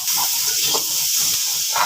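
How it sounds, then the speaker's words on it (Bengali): Potatoes sizzle as they fry in a pan, a steady close hiss with faint crackles and a few brief louder spits, no talking over it. "এখন আলু ভাজি হচ্ছে"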